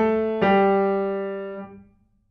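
A single piano note or chord struck once, ringing clearly and decaying over about two seconds, a harmony part played alone with no voice.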